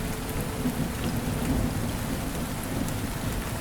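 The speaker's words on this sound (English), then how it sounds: "The rain continues gently, faithfully, without impatience." Steady, gentle rain falls at night over the empty streets of a closed medieval market, a dense continuous patter with a low rumbling undertone and no voices.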